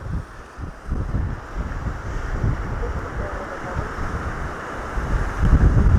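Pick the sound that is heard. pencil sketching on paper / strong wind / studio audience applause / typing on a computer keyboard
strong wind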